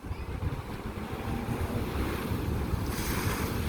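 Ocean surf at Pokai Bay, a steady close wash of breaking waves mixed with gusting wind buffeting the microphone, continuous and fairly loud with no voices.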